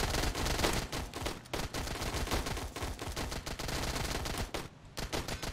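Video game gunfire in WarBox Sandbox during a zombie battle, with dense rapid bursts of shots repeating almost without pause at a steady moderate level, and no speech.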